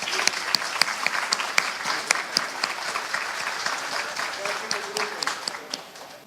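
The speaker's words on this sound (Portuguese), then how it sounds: "Salva de palmas para os homenageados." Sustained clapping from an audience honoring award recipients at a medal ceremony, dense and steady with sharp individual claps standing out, continuing for several seconds without a break.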